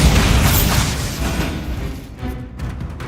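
A Bombarda explosion spell in the video game Hogwarts Legacy, a loud, close, booming blast with a rumbling low end that rolls off over about two seconds into crackling debris and quieter reverberation.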